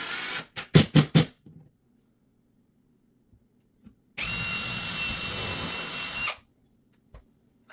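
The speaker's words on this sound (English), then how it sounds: "I pre-drilled the holes and used washer head wood screws to attach the holder to the wall" A power drill drives washer head wood screws into a wall in short trigger bursts, then one longer steady whirring run of about two seconds, close and loud with quiet gaps between.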